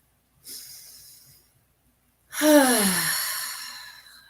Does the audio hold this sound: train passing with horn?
no